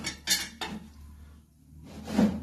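Thin bottle-gourd dhapate flatbread lifted from a hot pan, several clinking and scraping touches of metal utensil on cookware, close and moderately loud, with a short quiet gap before a final scrape.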